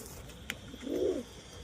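A single soft, short coo from a pigeon for sale rises and fades at close range after a brief click, with little else around it.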